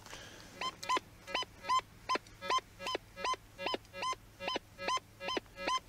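Repeated electronic beeping tone from a Rutus Optima metal detector with headphones unplugged, about a dozen short pulses at a steady, brisk rhythm with a warbling pitch, clear and close, no talk.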